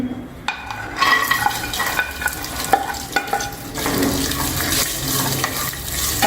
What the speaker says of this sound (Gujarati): રાઈ નાખી છે આપણે હિંગ નાખીએ છીએ પાપડીના દાણા લીધેલા એ નાખીએ છીએ